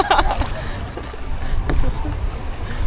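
A paddle strokes through the water beside a small boat with no engine running off Bohol, soft sloshing and splashing under a steady background wash, while people chat nearby.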